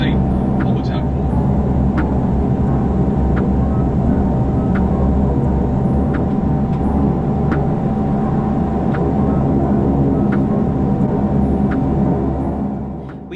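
Regional Express airliner taxiing to runway 23, a loud steady engine drone and rumble heard from inside the cabin, with faint regular ticks over the constant roar.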